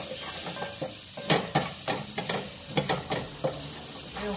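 About three garlic cloves sizzle in a pan for lasagna while a utensil stirs them, steady close frying hiss broken by repeated scraping strokes, with no voices.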